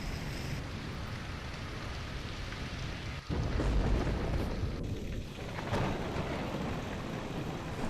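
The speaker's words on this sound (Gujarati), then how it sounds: "વાંકાનેરના કેટલાક વિસ્તારોમાં વરસાદી ઝાપટા પડ્યા" Rain showers fall steadily on surfaces, a dense hiss of drops with a low thunder-like thump partway through, continuous and fairly close with no voices.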